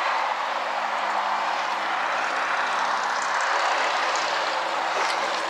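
A Ryobi battery-powered caulking gun runs during metal roof stove pipe flashing work, a steady, close, loud whirring motor drone with no pauses and no voices.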